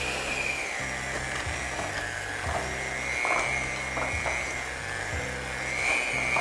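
An electric mixer whirs steadily as it creams butter and brown sugar for molasses cookies, a continuous motor drone with rhythmic pulsing from the beaters, loud and close with no talking.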